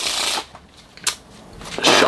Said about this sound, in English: So I could actually shuffle them on up.